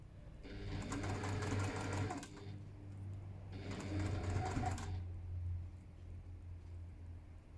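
A sewing machine stitches quilt pieces in two steady bursts of rapid mechanical whirring, close and loud, separated by a short pause with a low hum underneath.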